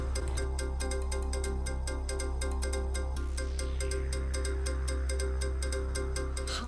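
A mobile phone rings with a repeating electronic ringtone, a regular pulsing pattern of bright tones over a steady low hum, loud and close, with no talking.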